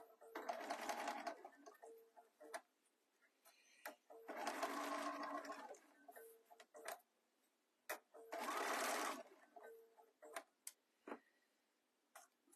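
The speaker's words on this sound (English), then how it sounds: "I'm going to sew from the inside here." A sewing machine stitches a phone case from the inside in three sustained whirring runs, each a few seconds long, with soft clicks and handling noises between them, fairly faint and with no talk.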